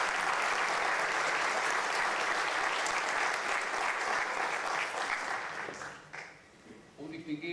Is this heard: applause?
yes